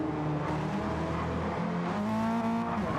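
Race cars on a street car race track rev and drone continuously, engines rising in pitch as they accelerate, loud and steady with several cars running together.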